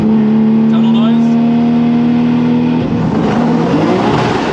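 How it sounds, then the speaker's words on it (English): A Nissan Skyline engine roars loudly and close inside a tunnel, holding a steady droning note for a few seconds, then breaking into rougher, rising revs with the echo of the enclosed space. "Tunnel noise?"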